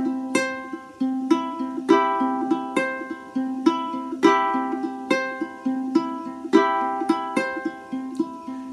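Ukulele fingerpicking a repeating plucked pattern, clear close notes with regular rhythmic attacks throughout, no voices.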